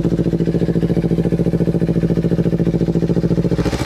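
A Kawasaki Ninja 250 FI motorcycle engine idles steadily up close, a loud, even pulsing thrum with a fast regular beat that continues without a break and with no voices.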